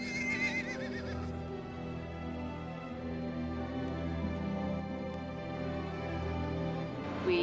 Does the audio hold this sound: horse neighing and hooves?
yes